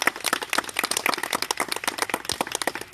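A church congregation clapping together during a baptism service, dense rapid hand claps in a lively rhythm, close and sustained throughout.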